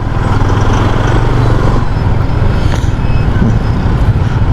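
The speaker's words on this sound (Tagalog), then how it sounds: "So pinupuntahan talaga ng marami nating kababayan. Ayan, so traffic, daming mga sasakyan na umaakyat sa Pangasinan." Steady, loud road traffic noise of many cars and vehicles climbing a highway toward Pangasinan, a continuous engine rumble and tire roar with no pauses.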